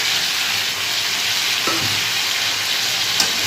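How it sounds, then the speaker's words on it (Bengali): Fried small fish mixed into a sizzling spice paste in a pan: loud, steady broadband frying hiss throughout, with a couple of faint spatula scrapes and knocks underneath. "মশলাটার সাথে ভালো করে মাছগুলোকে মিশিয়ে দেবো"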